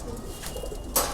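Pigeons in a loft giving soft low coos, close and fairly quiet, with a brief rustle or flutter near the end.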